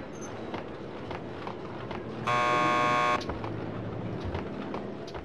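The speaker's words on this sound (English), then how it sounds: "Just press the buzzer by the door." A door buzzer at a police lockup in the video game Max Payne 2 sounds as one steady electric buzz lasting about a second, loud over a constant low background hum.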